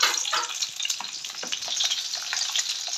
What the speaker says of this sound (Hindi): ये हमारा फ्राई तेल हमारा हो चुका है हॉट। अब हमने इसके अंदर शिमला मिर्च रख दी है